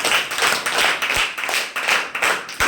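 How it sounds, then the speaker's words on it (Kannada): Schoolchildren at a government primary school quiz in the style of a Kannada quiz show clap together, a dense, steady rattle of many small hands with uneven surges throughout. "ಚಪ್ಪಾಳೆ ಹೊಡೆಯಿರಿ"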